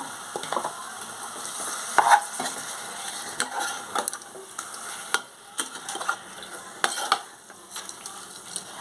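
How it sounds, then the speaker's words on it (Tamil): About 200 grams of chicken stir-fried in a hot pan in a home kitchen, with continuous sizzling and frying broken by repeated clacks and scrapes of stirring, fairly close and with no talking. "இப்போ சிக்கனை போட்டு வதக்கிக்கலாம்."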